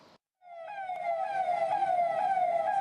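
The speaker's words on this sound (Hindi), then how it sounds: "सीएमओ डॉक्टर मनीष दत्त और डॉक्टर नरेश चौधरी, साथ ही SMJN कॉलेज के प्राचार्य डॉक्टर सुनील कुमार बत्रा ने हरी झंडी दिखाकर एम्बुलेंस को रवाना किया है।" An ambulance siren starts after a brief silence as the ambulance is flagged off at a college in Uttarakhand, a loud wailing tone that rises and holds with clear harmonics, nearby and without talk.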